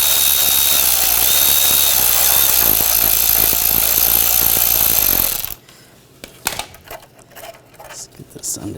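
A power tool whirs steadily and loudly for about five seconds while tightening a pair of hose clamps on the catalytic converter exhaust of a 2013-2019 Ford Escape, then cuts off, leaving quieter clanks and handling noise.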